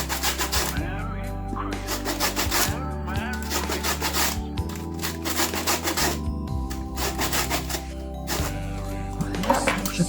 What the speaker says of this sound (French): Pour mon citron, je vais mettre du zeste.